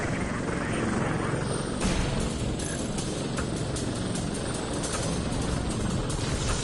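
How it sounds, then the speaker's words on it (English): Helicopter from the video game Prototype 2 whirs steadily throughout, a loud, continuous rotor and engine drone with a few brief higher clatters, no voices over it. "Oh, it is just a straight-up helicopter race."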